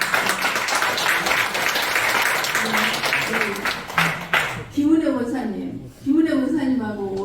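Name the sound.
applause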